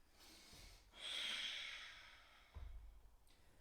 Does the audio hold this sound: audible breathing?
yes